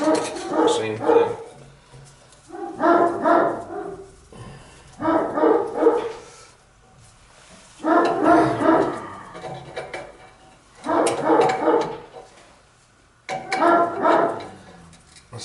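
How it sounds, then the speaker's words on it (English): A big dog barks in bursts of several deep woofs, six separate volleys spaced a second or two apart, fairly close and loud against a quiet farmyard background. "It sounds like a big dog, man."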